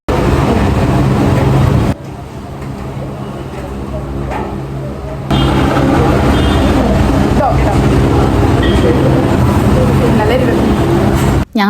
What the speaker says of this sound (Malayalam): നമ്മളിതാ നേരെ ഒരു ഓട്ടോയിലും കയറി ഹോസ്റ്റലിലേക്ക് പോവാണ്